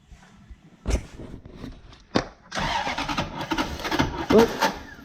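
A Toyota 1UZ-FE V8 swapped into a BMW E36 coupe cranks over, a couple of knocks and a clunk before a loud, steady churning roar builds and holds near by.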